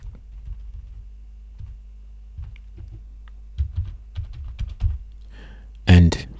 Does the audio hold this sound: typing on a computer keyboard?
yes